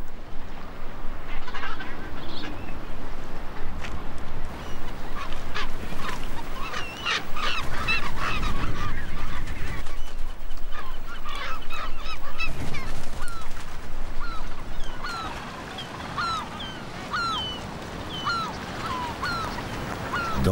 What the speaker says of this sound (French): Ces oiseaux noirs et voraces, les skuas, qui guettent le moindre signe de faiblesse.